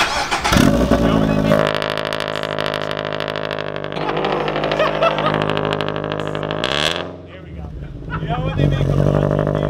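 A car engine in a workshop runs rough, sputtering and revving unevenly, loud and close. People talk over it.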